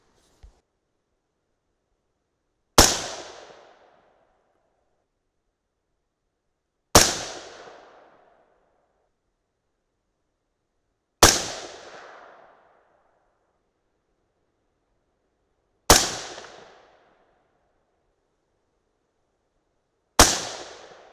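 Five sharp, loud rifle shots from a .223 Remington loaded with 62-grain Speer Gold Dot bullets, fired at a steady pace about four seconds apart, each cracking and then decaying into a short echo, with no talking.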